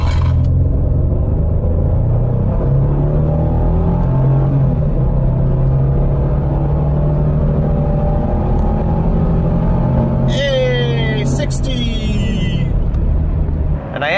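Jeep Grand Cherokee WK accelerating hard from a standstill toward 60 mph, a loud steady engine drone and road rumble heard from inside the cabin, with a brief tonal sweep and rattle near the end.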